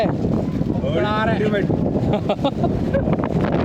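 Strong wind roars and buffets the microphone in a constant low rumble while voices talk underneath, near Abbey Falls in full flow.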